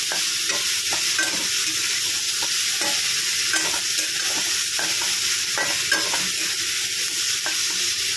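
Okra sizzles in a frying pan as it is stirred with turmeric, a steady low frying hiss broken by repeated soft scrapes and clinks of the spoon at an even rhythm, close and alone.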